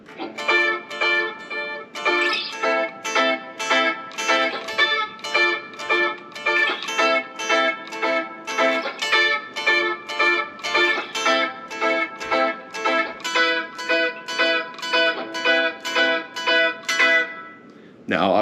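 A harmonically rich, slightly distorted electric guitar plays a riff, repeating at a slow, steady pace, each note distinct, with no voices.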